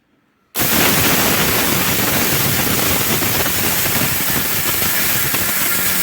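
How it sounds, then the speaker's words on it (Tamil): A kitchen mixer grinder blending idli podi spice powder, switching on abruptly after a brief silence into a loud, steady whirring roar that holds constant to the end. "மிக்சியில் போட்டு வச்சுருக்கோம். அரைக்க ஆரம்பிக்கலாம்."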